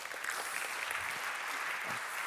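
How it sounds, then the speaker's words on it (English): An audience at a frontend tech conference claps in a dense, steady round of applause, a continuous patter filling the hall at even loudness with no voices standing out. "please welcome everyone with a warm round of applause onto the stage"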